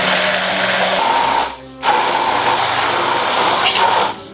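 A blender whirs loudly and steadily as it mixes garlic with vegetable oil, cutting out briefly partway through before the motor restarts and keeps running to the end.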